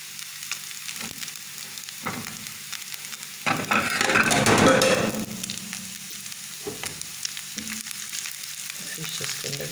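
Fish sliding into a pan of lightly cooked onions for a very spicy fish salan sets off a loud burst of frying and sizzling, which then settles back into a steady, quieter sizzle with occasional stirring.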